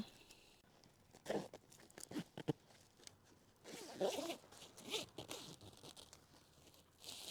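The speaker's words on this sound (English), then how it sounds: "And I'm going to zip it up." A heavy-duty zipper on a plant frost-cover bag is pulled shut in several short, rasping bursts with pauses between, close and fairly quiet, with some crinkling of the bag material.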